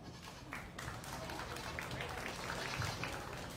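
Applause from a crowd at a dairy and pygmy goat show, a steady spread of clapping at moderate distance lasting the whole stretch, with an announcer's voice over it.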